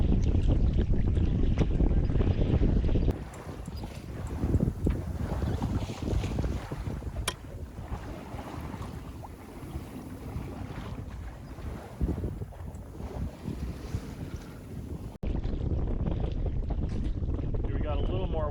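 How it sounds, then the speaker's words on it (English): Wind rushes over a sailboat under sail at about four knots, a loud broadband buffeting that drops to a softer whoosh mid-clip with water sounds beneath, then surges back strongly at the end. "We got a little more wind now."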